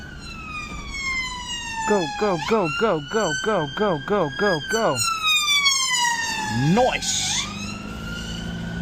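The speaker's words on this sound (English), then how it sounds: "I can see an ambulance with its blues and twos on behind me" An ambulance siren passes in British traffic, close and loud, shifting from a long wail into a rapid yelping pattern and then back to a falling wail, while someone talks excitedly over it.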